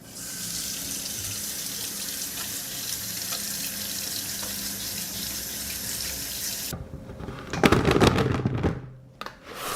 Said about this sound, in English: I have prepared the cucumbers and I will wash them first.